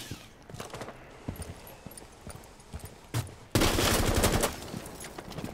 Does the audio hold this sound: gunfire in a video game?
yes